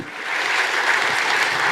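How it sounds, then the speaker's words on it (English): An audience at an Asia Pacific green hydrogen conference claps in a dense, steady round of applause that swells in quickly after a brief lull and stays full and even to the end. "Another big round of applause, please"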